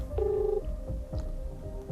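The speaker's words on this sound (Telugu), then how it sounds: "ఒకసారి కాల్ చేద్దామా?" A telephone call rings out during a studio interview, with a steady ringback tone repeating in short bursts over low background noise.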